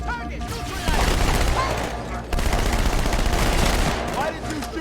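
Rapid gunfire in a Halo firefight, dense automatic bursts crackling loudly and continuously with a brief break in the middle, voices faintly mixed beneath.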